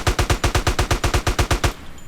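A burst of automatic gunfire in GTA San Andreas: about a dozen loud, evenly spaced shots fired rapidly, then a sudden stop with faint background hiss.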